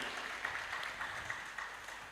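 An audience at an academic conference claps for a Monash University professor, a fairly soft, continuous patter of scattered hands that fades slightly toward the end, with no clear speech over it.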